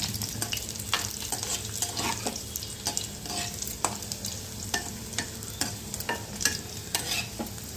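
Paneer being stirred and lightly fried in a pan for shahi paneer, with steady close sizzling under repeated scraping and stirring strokes.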